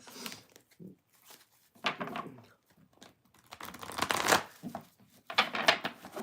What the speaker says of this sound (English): until I'm done shuffling